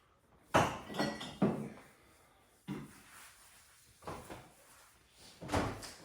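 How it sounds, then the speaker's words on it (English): A glass clinks and a cupboard or door bumps in a home kitchen as water is fetched, a handful of short knocks and taps spread out with quiet gaps. "Now, I'm gonna get you a glass of water."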